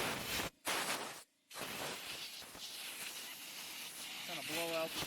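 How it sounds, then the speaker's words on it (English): Compressed air from a nozzle blasts debris off a wheel's tire bead during a valve stem replacement, a loud continuous hiss with two brief cutoffs early on, over faint talk in the background. "we'll take an air nozzle, we'll blow all the debris that's in there out"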